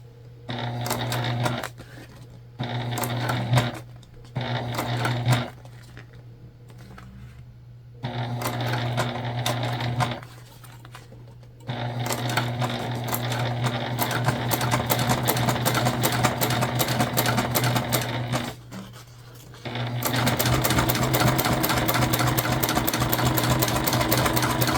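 A sewing machine stitches a tote bag in close, loud bursts of rapid rhythmic whirring, stopping and restarting several times before a long steady run.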